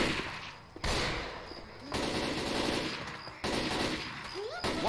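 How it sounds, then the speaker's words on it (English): Rapid bursts of automatic gunfire blast at zombie swamp people in a video game, loud repeated volleys separated by brief pauses, with a voice talking between them. "Oh, zombie swamp people, I'm sorry. I gotta shoot you."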